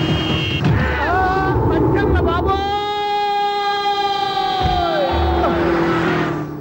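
A siren wails in sustained rising and falling tones over street bustle and crowd noise, close and loud, with overlapping voices nearby.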